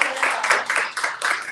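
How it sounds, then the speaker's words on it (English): Audience applause at a book event at Busboys and Poets, a brief burst of scattered, uneven clapping from a small crowd, close and moderately loud. "Please, a round of applause."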